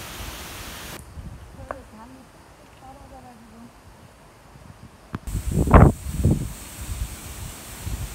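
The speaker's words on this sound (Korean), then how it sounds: "바람 부는 것 봐." Wind gusting outdoors with leaves rustling, a soft broadband hiss that swells into a louder blustery rush near the end, with a voice briefly audible.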